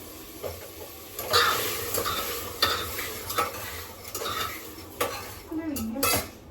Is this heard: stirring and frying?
yes